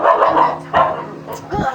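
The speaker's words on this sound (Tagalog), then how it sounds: "Aso." A dog barks three short, loud times close by at an outdoor street-food spot, with brief gaps between the barks.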